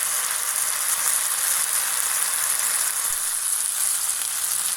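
Onions frying in a pan for Portuguese bifanas, a steady close hiss and crackle of sizzling that holds evenly throughout with no talk.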